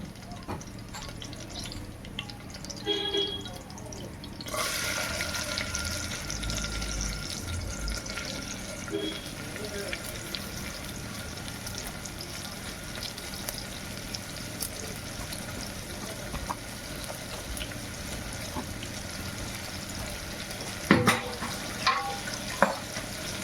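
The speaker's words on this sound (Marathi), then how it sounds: "मस्त जिरा लालसर झाला का लगेच आपला कांदा टाकायचा आहे" Chopped onion and cumin go into hot oil in a pan, setting off a steady, close sizzle with stirring scrapes and a brief watery splash near the end.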